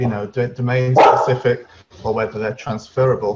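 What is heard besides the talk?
dog barking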